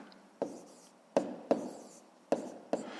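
Pen or pencil taps and strokes on paper while writing out a fifth-grade decimal multiplication answer, five short sharp marks spaced irregularly over a quiet background.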